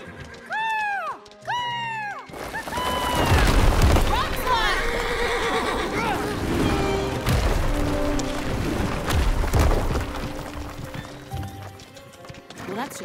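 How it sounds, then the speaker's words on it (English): Horse in a cartoon western chase scene neighs loudly twice at the start, then fast hoofbeats and a busy action score rumble underneath, with other sounds layered through the rest. "Get that horse!"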